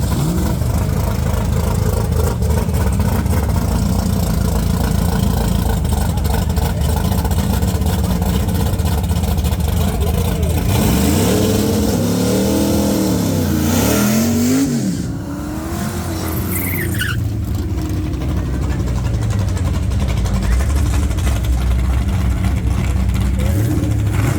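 A turbocharged LS-swapped Mazda Miata engine drones loudly and steadily, then rises and falls in pitch through several revs as it spools up. Wind or road roar runs underneath, and a voice speaks faintly in the background.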